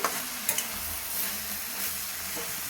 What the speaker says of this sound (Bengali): এবার মশলা দিয়ে ভালো করে নাড়াচাড়া করে নিচ্ছি।